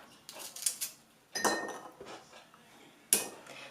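Garlic dropped into a jar while making fermented tomatoes: a few separate clattering bursts and a sharp glassy clink, close and fairly quiet with short pauses between.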